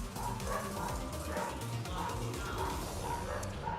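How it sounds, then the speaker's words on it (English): Several dogs bark and yip repeatedly in the background of a noisy room during a live Rocket League esports stream, a steady busy din with overlapping voices. "The dogs are getting loud."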